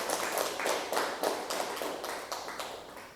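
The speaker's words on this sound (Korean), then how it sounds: "조금 이해가 되시면은 박수를 한번 치라고" An audience at a Buddhist sutra lecture claps in a steady rhythmic series of about ten beats, fairly faint and somewhat distant, with no talking.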